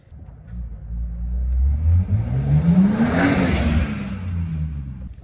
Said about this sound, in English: You might have just heard Jay come past. His 4 Series being an Aspo.